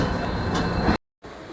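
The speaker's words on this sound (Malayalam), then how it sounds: "M G R Chennai central railway സ്റ്റേഷനിലാണ് നമ്മൾ ഇറങ്ങാൻ പോകുന്നത്" Train at MGR Chennai Central railway station in light rain, a loud steady rumbling roar that cuts out abruptly near the end and then returns more faintly.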